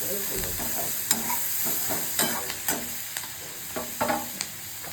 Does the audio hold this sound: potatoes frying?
yes